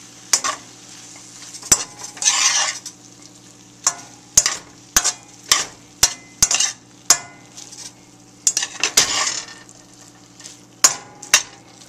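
Meat fries for fried rice, a steady sizzle broken by a dozen sharp scrapes and clinks of a utensil stirring against the pan, spaced irregularly a second or so apart, close and fairly loud.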